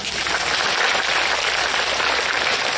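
Applause from a school career-guidance audience at a lower secondary school, a dense continuous clapping wash filling the whole stretch without pause, loud and even, with no voices heard.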